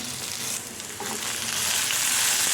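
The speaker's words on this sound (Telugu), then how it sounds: "ఇలా ఓపెన్ చేస్తూ చూసుకుంటూ ఫ్రై చేసుకుంటూ ఉండాలి" Ivy gourd fries in an open pan with a steady, bright, close hiss that swells slightly toward the end, after a faint clink of the lid.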